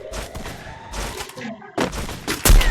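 Gunfire in a shooting video game: several separate heavy volleys, each a sharp broadband crack with a booming low end, the last and loudest near the end, with a voice commentating in between.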